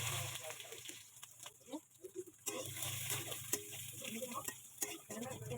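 Chopped onion fries in oil with dry red chilli, bay leaf and cumin for a village-style Bengali fish curry, a soft crackling sizzle broken by irregular stirring scrapes and pan knocks, fairly quiet.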